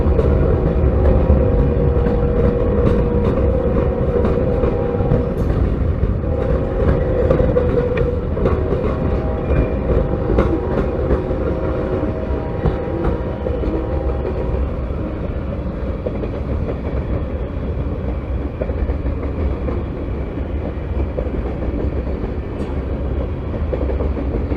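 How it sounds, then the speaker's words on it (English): Two CSX freight trains pass side by side in opposite directions on a rail line, giving a loud, continuous rumble with rhythmic clickety-clack of wagons rolling close by throughout. "the trains going opposite directions at the same time"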